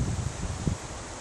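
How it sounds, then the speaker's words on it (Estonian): Gusty wind blowing outdoors on a hike, heard as a low, rough rumble and steady rushing noise buffeting close to the microphone, with no voices. "Asi on kiskund jälle tuuliseks."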